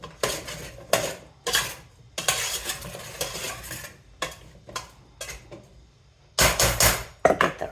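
Sausage and potatoes are stirred in a pan over low heat, with irregular bursts of scraping and clattering from a utensil against the pan, separated by short pauses, heard close with no speech.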